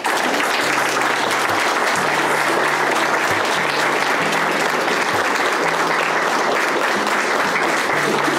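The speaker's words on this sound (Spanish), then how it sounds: "Y pido un aplauso para Rebequita." Sustained audience applause at a funeral farewell for Rebeca Matsunaka Fujimoto, dense steady clapping filling the whole stretch with a low murmur of voices beneath.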